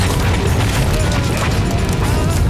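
An explosion near an emergency scene by a bridge in a German GSG 9 police drama, heard as a loud, dense, sustained roar of blast noise and debris with no clear voice.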